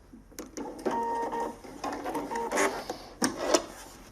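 A Pfaff Ambition 630 sewing machine stitches a decorative satin stitch on fabric, its steady mechanical whirring and rapid rhythmic needle clatter running close and alone for several seconds, with brief pauses and clicks.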